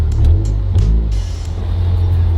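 A MazdaSpeed 3 with a racing exhaust driving, a deep steady low rumble with a slight rev swell, loud and close throughout.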